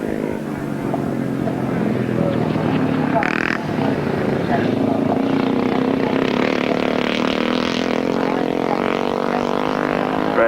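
Grasstrack racing motorcycles with 500 Jap engines pass at an English grasstrack meeting in 1993, their loud droning roar rising and sweeping by continuously while a commentator talks over the engines.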